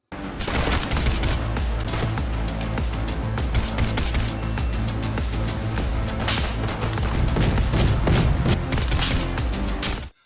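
Rapid, continuous gunfire from Geronimo, a PC VR first-person shooter video game, dense crackling shots running almost nonstop and loud throughout.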